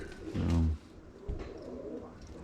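A pigeon gives a low, throaty coo close by, one rolling burst followed by a softer thump and faint rustling in a quiet loft, without any talk.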